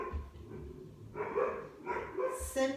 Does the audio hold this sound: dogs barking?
yes